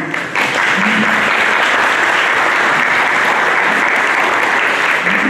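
Sustained audience applause at a church gathering honoring a priest, steady dense clapping filling the whole stretch at close range, with no voices above it.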